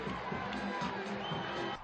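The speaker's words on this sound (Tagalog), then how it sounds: "dumagundong ang hiyawan ng fans na excited manood ng live ng paghaharap nila ni Alicia Parks" Tennis fans at the Canadian Open in Toronto cheer and shout as a player walks onto the court, a dense, continuous crowd roar with excited voices blending together.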